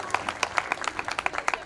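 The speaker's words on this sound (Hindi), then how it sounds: "तो ये जोरदार तालियां हम दोनों साथियों के लिए होना चाहिए।" Audience clapping at a Bhagwan Sahastrabahu Jayanti community celebration, a brief burst of dense, uneven claps from a gathered crowd, moderately loud and continuous over its short span.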